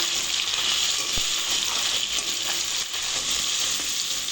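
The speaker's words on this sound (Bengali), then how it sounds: "তেজপাতা পাঁচফোড়ন সব দিয়ে দিলাম দিয়ে পেঁয়াজটা একটু ভালো করে কষে নেব" Chopped onion frying in hot oil with bay leaf, panch phoron and chopped chilli, a loud, dense, continuous sizzle close up with a faint tap or two, no talking.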